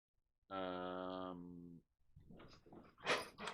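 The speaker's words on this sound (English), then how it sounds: "you guys will have to ignore my dogs. They're starting to get wild for some reason." Dogs getting worked up indoors: one drawn-out high whine or howl, then a burst of quicker yelps and barks, fairly close and loud against a quiet room.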